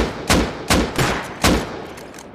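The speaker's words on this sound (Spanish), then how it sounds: "¿reventamos la torreta a balazo?" Several loud, sharp gunshots fire at a turret in the video game Rust, an uneven burst of four heavy cracks within a couple of seconds with a few fainter shots trailing off.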